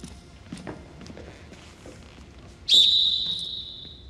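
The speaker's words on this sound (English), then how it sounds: "I am going to blow this whistle" A referee-style whistle is blown once at soccer practice, a sharp shrill blast that trails off over about a second, after soft footsteps and faint shuffling on the field.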